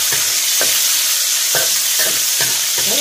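Pork stir-frying in a hot pan for a Thai stir-fry with fresh chilies, cabbage and pork sausage, a steady loud sizzle broken by a few sharp scrapes and stirring knocks, no voices.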